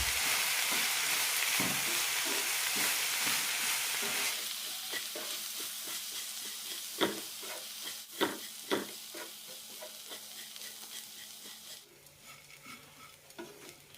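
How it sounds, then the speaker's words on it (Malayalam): Dry oats and semolina sizzle and rustle in a hot pan while a spoon stirs and scrapes, with a few sharp knocks against the pan's edge. "നന്നായി ഒന്ന് വറുത്തെടുക്കാം."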